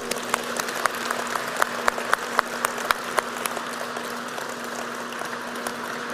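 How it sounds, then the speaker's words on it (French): Applause for hydroelectric plant workers at the inauguration of a new hydroelectric complex in Québec, a moderate crowd clapping with sharp individual claps standing out early, then settling into a steady, softer patter over a low hum. "on vient les applaudir"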